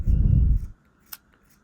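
Scissors cut dress fabric to open a zipper allowance, with a loud, low crunching snip followed by a brief faint click and near silence.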